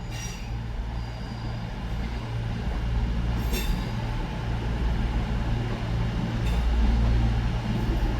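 Cross-country Voyager unit 221138 departing Manchester Piccadilly for Reading, a steady low diesel rumble and rolling rail noise that swells midway, with a faint squeal of wheels near the platform.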